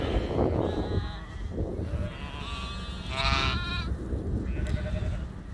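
Ewes and newborn lambs bleat as the last lambs are turned out to grass, several overlapping calls rising over a steady farmyard background noise.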